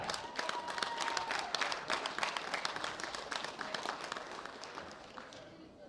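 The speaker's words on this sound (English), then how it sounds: "A big round of applause for Kurt Einar Voldseth." An audience applauds the silver medalist at the 2016 World Bench Press Championships, with dense clapping from a distant crowd that gradually thins and fades over several seconds.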